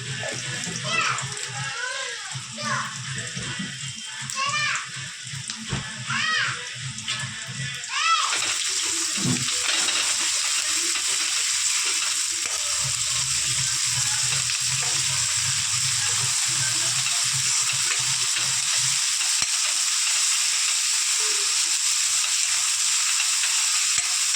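Ginger garlic paste sizzles in a hot pan for an Andhra-style potato fry, making a steady hiss with a few clinks from stirring at first and a sputtering crackle that carries on throughout.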